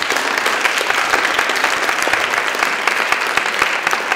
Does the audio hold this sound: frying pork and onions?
no